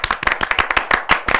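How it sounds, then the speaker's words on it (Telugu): A crowd bursts into loud, rapid clapping during a Telugu radio interview with film actresses, about a dozen sharp claps in quick succession with no talk over them. "గట్టిగా చప్పట్లు."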